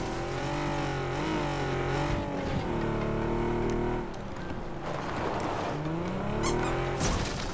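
A motorcycle engine in a video game drones steadily and loudly, its pitch sweeping up and down as it revs, with no talking over it.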